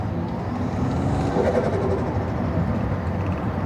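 From inside a Toyota Chaser JZX100 fitted with an HKS intake, the engine hums in a steady low drone while driving, with a slight swell in the middle.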